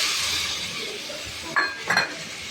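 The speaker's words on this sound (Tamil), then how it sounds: "அதிலே தக்காளியும் போட்டு வதக்கிட போகிறேன்." Tomatoes sautéing with prawns in a pan, a soft steady sizzle with a stirring scrape and two brief metallic clinks of a utensil against the pan near the end.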